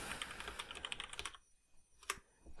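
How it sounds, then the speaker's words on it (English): Computer keyboard typing, a quick run of close, crisp key clicks, then a brief pause and one more small burst of taps. "Let's type again."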